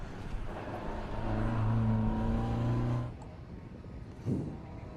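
A 2-litre early Group 4 Ford Escort rally car with 5-link suspension, at a historic sprint event, revs loudly with a steady rising engine note for about three seconds, then cuts off, leaving faint background noise and a brief thump.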